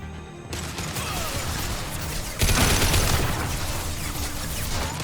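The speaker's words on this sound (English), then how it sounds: "Firing an impact shot." An impact shot fires in Mass Effect 2 during Zaeed's loyalty mission, a sharp heavy burst that jumps out midway over continuous loud gunfire and battle noise.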